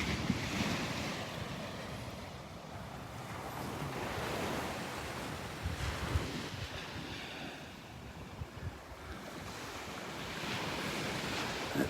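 Ocean surf at Vanderbilt Beach rolls in continuously, with steady wave wash and wind buffeting the microphone throughout, loud and close with no voices.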